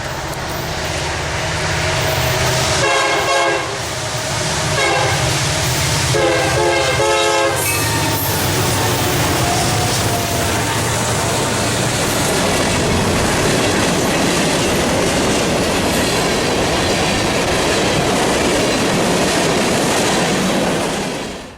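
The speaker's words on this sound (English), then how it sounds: "After the manifest cleared the yard, it quickly picked up some speed." Union Pacific manifest freight train passes close by, with two loud horn blasts early on, followed by a long, steady roar of rolling wagons and rhythmic clickety-clack of wheels on rail joints.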